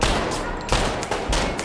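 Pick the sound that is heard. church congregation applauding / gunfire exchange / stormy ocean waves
gunfire exchange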